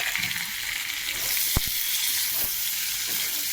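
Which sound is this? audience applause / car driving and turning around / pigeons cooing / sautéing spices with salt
sautéing spices with salt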